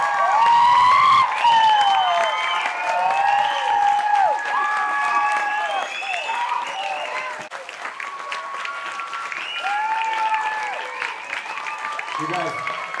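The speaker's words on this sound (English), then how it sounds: "Give a round of applause for Pastor Bud." Applause and cheers rise from an audience at a coalition meeting as a pastor is called up, with whistles or shouts and excited voices ringing over the clapping throughout.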